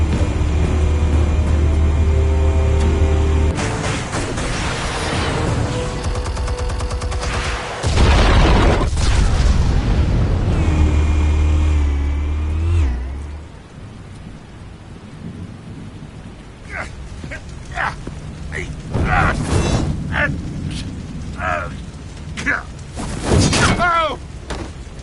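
Loud booming blasts and crackling explosive bursts from a Batman Telltale video game action scene fill the first half, followed by scattered sharp bangs and rumbles at a lower level, with a voice briefly heard.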